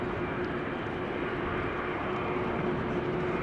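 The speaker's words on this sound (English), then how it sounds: "Qatar Cargo 777 coming over here, will be taking off from runway 18 left." A Qatar Cargo Boeing 777 at Amsterdam Schiphol Airport gives a steady, distant jet engine roar with a faint tonal whine, continuous and even from start to finish.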